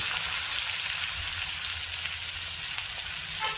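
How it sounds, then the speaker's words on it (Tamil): Chopped onions sauté in oil with garlic in a pan for a raw banana thokku, a soft steady sizzle running evenly throughout at close range, without voices. "வெங்காயம் போட்டு நல்லா வதக்கணும்"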